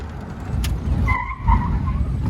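Tires squeal briefly over a low engine rumble as a 1941 Buick Roadmaster convertible brakes hard, a short screech that fades quickly.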